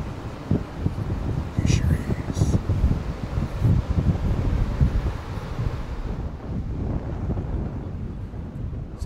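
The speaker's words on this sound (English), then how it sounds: "Morgan invites us on a very windy stroll along a local beach." Strong wind on a beach buffets the microphone in heavy, gusting roars, with surf rumbling underneath and a brief faint bird-like chirp.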